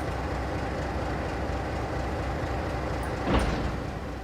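Train cars couple in Train Simulator 2012, a single sharp clank near the end standing out over a steady low rumble of rolling stock, with no talking.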